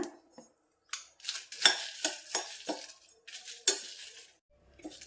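Coriander, rice, urad dal and dried red chillies being dry-roasted in a pan, with sparse metallic clinks and scrapes of a spoon against the pan and short rattling stirs coming in quick bursts between pauses.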